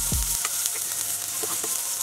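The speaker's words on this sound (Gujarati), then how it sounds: "ડુંગળીનો થોડો કલર બદલાય ત્યાં સુધી આપણે તેને સાંતળી લેવાની છે" Finely chopped onion sautés in a pan with a bright, steady sizzle, opening with a single low knock and followed by a few light stirring clicks.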